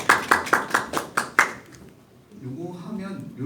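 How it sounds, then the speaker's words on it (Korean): A short burst of rhythmic clapping, seven or so sharp evenly spaced claps from a small audience at a talk about social entrepreneurs, fading quickly into a softer murmur of voices. "저희를 위해서 읽어주신 선생님께 박수 한번."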